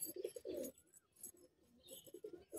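Pigeons cooing in a loft, including a Madrasi male, with repeated soft throaty coos in bursts, close and fairly quiet, no talk.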